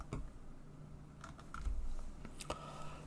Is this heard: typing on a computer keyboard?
yes